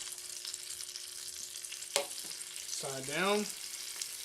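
Thin bologna slices fry in a hot pan with a steady close sizzle, broken by a sharp clatter near two seconds and a brief spoken phrase over the frying.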